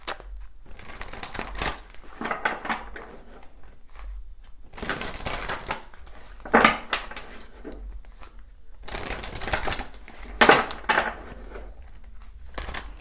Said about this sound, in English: We'll pull 3 advice cards really quickly for you here.